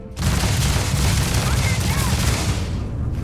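Sci-fi gunfire in the space game Starfield roars as a dense, continuous fusillade of overlapping shots, loud and close throughout with no pause.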